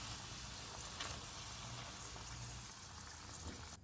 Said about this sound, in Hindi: पकोड़े फ्राई हो गए हैं, इनको निकाल लेते हैं।